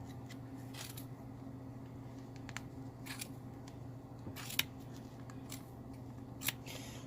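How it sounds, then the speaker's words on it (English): Scissors snip repeatedly through yarn, several quiet crisp cuts spaced irregularly over a low steady background hum. "It's a very satisfying sound there of cutting the yarn."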